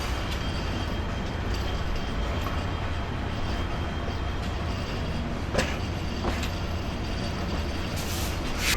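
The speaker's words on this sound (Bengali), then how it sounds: "ছেড়ে দিল গাইবান্ধা রেলওয়ে স্টেশন থেকে।" The Rangpur Express pulls out of Gaibandha railway station at night in a steady, loud rumble of wheels and carriages, with a few sharp clanks standing out near the end.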